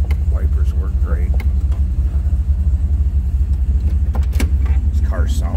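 A 1974 Chevrolet Corvette Stingray idles with a low, steady engine rumble, heard close and continuous, with small clicks and handling noises from the car over it.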